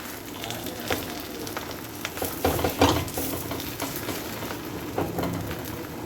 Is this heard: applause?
no